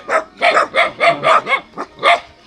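A dog in a simple rural village barks repeatedly, about eight loud close barks in a fairly steady rhythm, with no talk over them.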